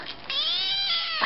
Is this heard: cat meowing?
yes